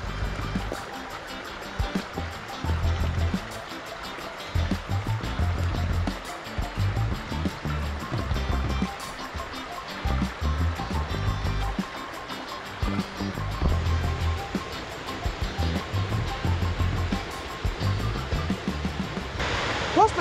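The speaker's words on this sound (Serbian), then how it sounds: "stižemo do vodopada Ripalo i mogu da kažem da mi se sviđa, ili je u punu snagu" The Ripalo waterfall near Babušnica rushes at full spring flow, a steady broadband roar of falling water that continues without pause for the whole stretch, moderately loud and close.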